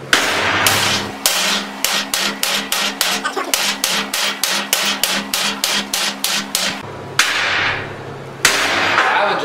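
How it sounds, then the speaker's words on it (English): A 4-pound hammer strikes stick welds made with Lincoln Electric and Hobart rods in a rapid series of loud metallic blows. The swings land in a steady rhythm, then pause, and two heavier hits come at the end. "4-pound hammer, and I'm swinging it, not really putting all that much effort into it"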